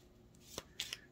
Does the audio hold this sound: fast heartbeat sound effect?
no